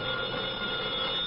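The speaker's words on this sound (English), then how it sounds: "The telephone is ringing" An old-time radio drama telephone rings as a steady, continuous electric bell trill, loud and close, with no voices and nothing else heard.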